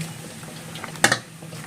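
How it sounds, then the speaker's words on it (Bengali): Water draining out of boiled kalmi (water spinach) through a basket set over a pot: a soft continuous watery trickle with a brief louder splash about two-thirds of the way through. "বাসনের উপর একটা ঝুড়ি নিয়ে নিয়েছি, শাকের জলটা ঝরিয়ে নেব।"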